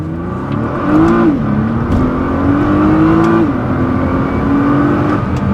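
Nissan R35 GT-R under hard acceleration, its engine rising in a strong revving pull with a gear shift partway through, loud and close over continuous road and wind roar.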